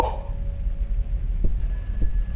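A telephone in a horror video game gives a short ring at the start, then a sustained tonal ring sets in later, amid dark ambient rumble and a couple of soft thuds.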